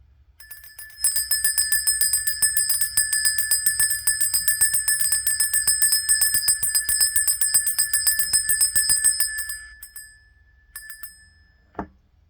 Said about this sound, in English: So we're going to ring the bell in 1, 2,